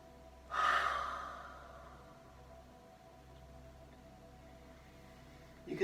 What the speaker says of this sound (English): breathe through the mouth.